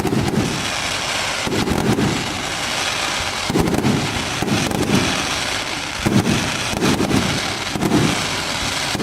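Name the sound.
fireworks fan cakes exploding at a show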